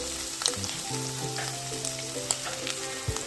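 Spice powders hitting hot oil in a pan with shellfish, a soft crackling sizzle punctuated by a few sharp clinks, beneath steady tonal hum, with no speech.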